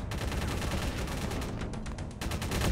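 A blunderbuss fires in Cursed Halo: a rapid, dense string of loud, crackling gunshots that bursts out in clusters over a constant heavy rumble, with a fresh volley toward the end.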